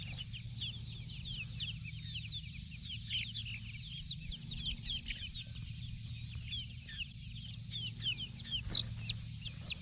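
Young chickens play in a backyard, a flock of chicks cheeping rapidly and continuously at moderate distance over a low steady hum, with one louder chirp near the end.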